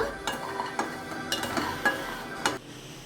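Seeds such as pumpkin and cucumber seeds dry-roasting in a pan over a low flame for dry fruit laddu, with a soft steady rustle and several light scraping clinks of stirring, fairly close and quiet with no talk.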